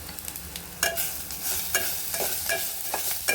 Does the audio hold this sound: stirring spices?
yes